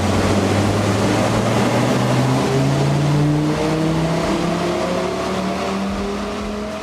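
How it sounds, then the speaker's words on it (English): A stock Audi RS3 engine on a dyno power run, loud and close, revving in a continuous climb with pitch rising steadily for about seven seconds, without pause or talk. "And we've just done a stock power run on the RS3."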